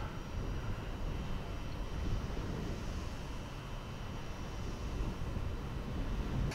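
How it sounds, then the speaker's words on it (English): A wind turbine heard from very close by produces a steady, faint, broad whooshing hum with a few thin tonal lines, mixed with light wind noise on the microphone. "I've never been that close to one of these wind turbines."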